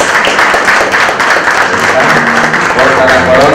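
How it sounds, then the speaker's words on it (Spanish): Loud applause and clapping from a crowd at a quinceañera crowning, a dense steady wash throughout with voices and music-like tones mixed in underneath. "Fuerte el aplauso para Damaris"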